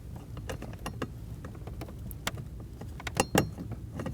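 Small metallic clicks and ratcheting taps from a socket hand-tightening a bolt on the HVAC blend door actuator of a 2000-2007 Ford Taurus, close up, irregular and fairly quiet over a steady background hiss.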